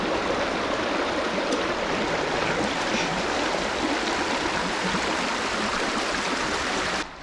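A river flows steadily beneath an old bridge at a forgotten village, giving a continuous close rushing wash with no voices. The sound stops abruptly at the very end.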